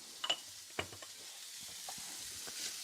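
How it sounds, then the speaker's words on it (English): Corn kernels sautéing in a pan with salt give a quiet, soft sizzle. A few sharp taps and clicks of stirring break through near the start. "saute this until your corn starts to brown"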